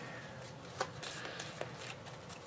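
Playing cards shuffled for a round of the Aeon's End Legacy card game, a soft papery riffle with a couple of sharper snaps, fairly faint and close over a quiet room.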